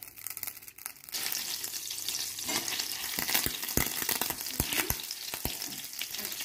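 Butter sizzles and fries in a hot pan while garlic butter shrimp is being made, a steady crackling hiss broken by sharp pops and spatters, close and loud, with no talk.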